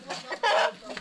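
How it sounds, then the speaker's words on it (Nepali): A rooster gives a short series of close, throaty clucks, with one louder, longer call in the middle. "यो भाले चाहिँ समाउँ त"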